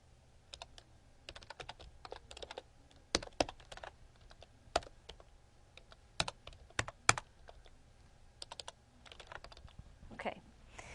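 Computer keyboard keys clack in irregular bursts of quick taps, close and fairly quiet, with short pauses between runs of typing.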